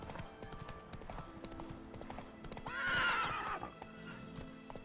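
The horse Roach in The Witcher 3 clip-clops along at a walk in short hoofbeats, then gives a loud whinny near the middle, close and clear.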